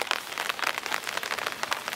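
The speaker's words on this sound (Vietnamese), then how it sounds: "Mưa rỉ rả rỉ rả." Steady drizzling rain patters on a surface in a rural Vietnamese neighbourhood, a close, uneven spatter of drops with soft bursts and no talk over it.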